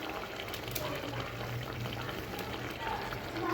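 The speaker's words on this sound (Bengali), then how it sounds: "এই ডিম এবং আলু আমি ভালোভাবে কষিয়ে নেব এই মশলার সাথে।" Eggs and potatoes frying with spices in a pan give off a steady, dense sizzle that fills the whole stretch, with a faint voice in the background.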